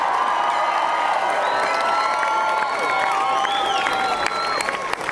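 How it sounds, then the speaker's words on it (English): A graduation crowd applauds and cheers for the class of 2019, with continuous clapping, whoops and shrill shouts layered over a steady roar of many voices. "How about a round of applause for the class of 2019?"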